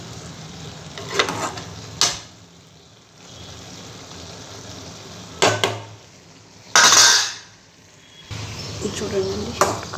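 Chapala fish curry with cucumber pieces being stirred in a pot, giving a few sharp metallic scrapes and lid clanks over a low simmering hiss.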